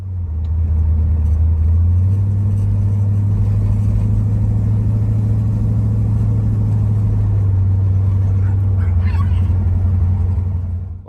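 A 1967 Mercury Cougar drives along with a steady, loud, low engine rumble that continues throughout, with a slight shift in pitch early on.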